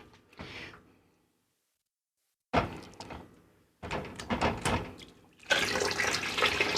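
Glass knocks and clunks against metal, then water sloshes and splashes as a jar of pickled beets is lowered into a pot of hot water for canning, with brief pauses between sounds.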